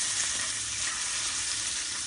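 Fish pieces fry crisp in hot oil in a pan, giving a dense, even, close-up hiss and crackle that holds steady throughout with no voices.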